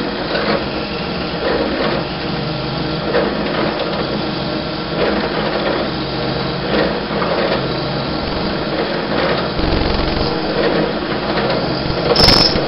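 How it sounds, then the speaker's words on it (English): A drill bores a 1/4-inch lanyard hole near the end of a wooden war club, giving a continuous, rough grinding drone with a slightly varying texture throughout, loud and close without speech. "we need to drill a hole for a lanyard so that this thing don't slip out of our hand"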